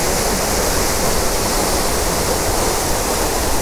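Chhota Darshana waterfall at Pumsi in Kalimpong roars in a steady, dense wash of falling water, loud and close with no break, with no voices over it.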